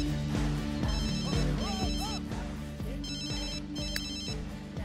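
A telephone rings in The Sims 3 video game, repeated electronic ringtone bursts over steady game music, with no talk.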